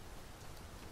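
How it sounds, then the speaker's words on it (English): Steady rain falls in the Dragon's Dogma 2 video game during a roadside camping scene, a dense, even hiss of drops spread across a wide range and holding the same level for the whole second, with no talk. "having been camping in the rain like this before"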